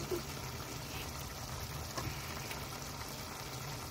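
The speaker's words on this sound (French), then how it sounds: "Regardez comme ça mijote si c'est beau." A covered dish simmering in a pan, a steady soft sizzle and bubble held at a low, even level throughout.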